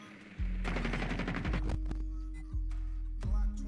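Video game gunfire in a bomb-defusal match: bursts of loud automatic shots with heavy low booms, several sharp volleys in a row up close, no talk over them.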